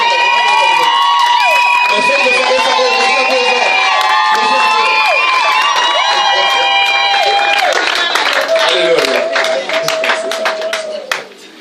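Guests at a wedding celebration cheer, ululate and sing loudly in praise, with rhythmic hand clapping growing sharper and denser toward the end before fading out.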